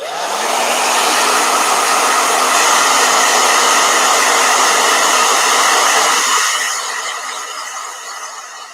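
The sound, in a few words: hair dryer blowing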